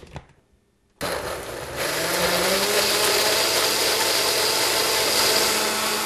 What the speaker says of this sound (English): we'll get the blender going